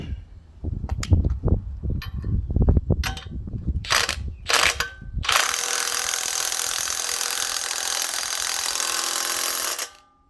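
Ratchet tightening a ball joint on a 2006 Ford E-150 XL: close, uneven metallic clicks and knocks, then a steady loud grinding whir lasting several seconds before stopping.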